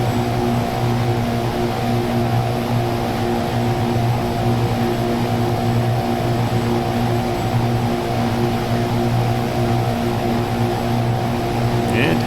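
Steady droning hum of a propeller aircraft engine in a combat flight video game, with sustained harmonic tones holding constant throughout at a loud, even level, no speech over it.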